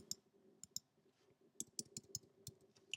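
A computer mouse clicks repeatedly in a quiet room while vinyl cutting software is operated, crisp close clicks coming singly and in quick clusters, with faint background hum.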